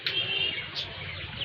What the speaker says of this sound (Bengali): এই যে এখানে দেখেন কত সুন্দর কবুতরগুলো আছে